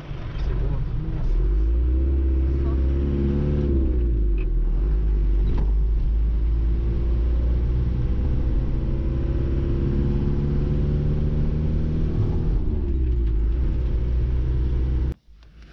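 A camper van drives along a road in Morocco, its engine a steady close rumble with shifting pitch as it changes gear, continuing under occasional talk inside the cab.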